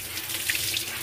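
Cold tap water runs steadily into a sink while a soapy polo shirt is rinsed under it, a continuous close hiss and splash with no talking.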